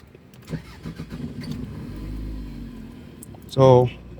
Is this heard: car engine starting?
yes